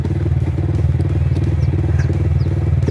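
A motorcycle engine idles and runs steadily close by during a riding lesson, giving a continuous low throbbing putter with faint clatter over it and no talk.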